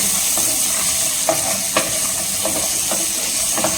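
Large garlic cloves fry in a pan for a spicy tomato chutney, giving a close, steady sizzle and hiss with a few sharp stirring clicks and scrapes of the spoon against the pan.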